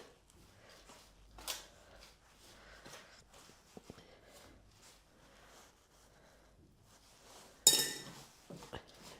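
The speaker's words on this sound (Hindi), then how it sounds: "इसको हम चम्मच से पहले इस तरह से मिला लेंगे" A spoon stirs jaggery into a warm mixture in a bowl, giving faint, scattered clinks and scrapes against the bowl. A sharper metallic clatter stands out near the end in otherwise quiet surroundings.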